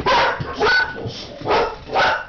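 Dogs barking at a street protest in Nykøbing Falster, four loud close barks coming in an uneven rhythm with short gaps between them.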